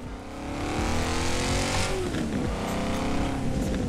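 A BMW X5M with a 4.4-litre V8 drives in Forza Horizon 4, its engine droning in a steady, rising and falling tone with layered harmonics, loud and close.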